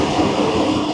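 Switzerland's Glacier Express rolls along in a loud, steady, broadband rumble of running rail noise, close and unbroken, with no talk.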